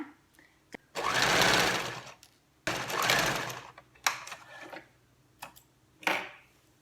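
A sewing machine stitching a pinned hem folded about one centimetre on a spaghetti-strap top, two close sustained whirring runs followed by a few short stitch bursts and clicks.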